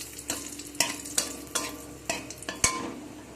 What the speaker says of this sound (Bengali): গ্যাসের কড়াইয়ের মধ্যে দিয়ে দিলাম একটা শুকনো লঙ্কা ফোড়নে, আর দিয়ে দেব অল্প একটু গোটা জিরে।